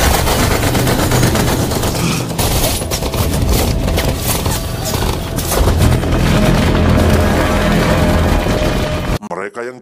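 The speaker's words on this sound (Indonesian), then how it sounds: "Where are the shots coming from?" Heavy gunfire in a firefight scene from the action film The Blackout, with dense, continuous rifle and machine-gun bursts and booming blasts, loud and relentless throughout, cutting out abruptly near the end.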